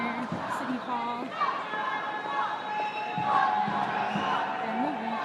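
A large protest crowd marches through a city street with continuous shouting, chanting and overlapping voices, a dense roar of people close by with louder swells.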